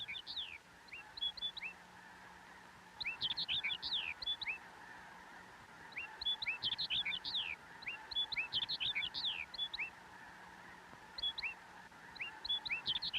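Snow geese on open summer tundra, honking in bursts of repeated nasal calls from a flock at moderate distance, with quieter gaps between groups of calls.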